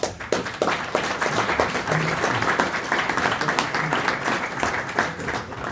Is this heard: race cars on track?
no